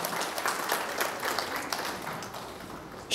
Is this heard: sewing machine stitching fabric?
no